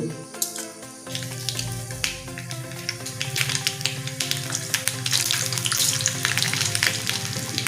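Mustard seeds splutter in hot oil, with fenugreek nearby, as the base for a mango curry. Rapid crackling pops grow denser and louder over a steady sizzle, with background music underneath.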